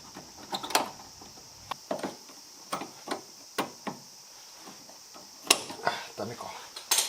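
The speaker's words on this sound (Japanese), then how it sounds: "ここのねボルト外してこのホースを引っこ抜いちゃいます" Bolt loosening and a fuel tank hose being tugged off a long-stored Mazda RX-7 FD3S during restoration: sharp metallic clicks and taps in irregular bursts, close by, with occasional scraping between them.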